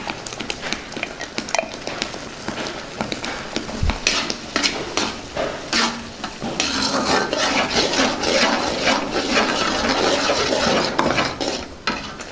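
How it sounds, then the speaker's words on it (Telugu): Potato curry with tomato paste is stirred and mixed in a pot, a continuous busy scraping and clinking of a spoon against metal, close and moderately loud, with faint sizzling underneath and no speech. "దీన్ని కూడా బాగా కలుపుకుందాం"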